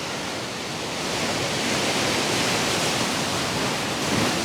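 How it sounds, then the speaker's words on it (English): Ocean waves wash on a beach in a steady broadband roar that swells slightly, continuous and fairly loud with no distinct breaks and no voices. "Enjoy the sounds of the ocean"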